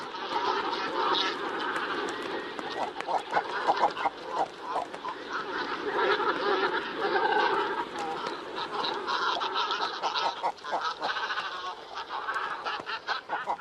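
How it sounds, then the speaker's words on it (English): A dense, continuous chorus of harsh croaking, growling and guttural calls from a great cormorant colony on its nesting grounds in Kazakhstan, raucous and unbroken throughout. "when they congregate on their nesting grounds, a chorus of growls, croaks and clucks shatters the peace"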